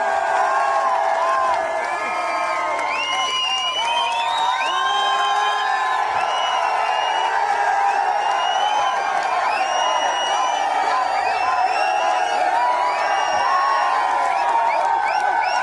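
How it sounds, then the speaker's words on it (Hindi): Large crowd of achievers at a company gathering in Jaisalmer cheers, whoops and shouts loudly, with some clapping mixed into the continuous roar of many voices throughout. "जोरदार तालियां, जोरदार हल्ले के लिए सर।"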